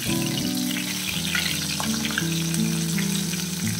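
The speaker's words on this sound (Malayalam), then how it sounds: "എന്നിട്ട് ഇത് ഫ്രൈ ചെയ്തെടുക്കാം" Netholi anchovies frying in hot oil, a steady dense sizzle with bubbling crackle throughout, close and continuous with no voices.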